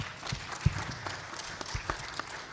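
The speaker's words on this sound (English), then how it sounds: "A round of applause, please." Conference audience at a fintech and digital payments panel applauding, a moderate spread of clapping with a few sharper claps standing out, fairly steady across the moment.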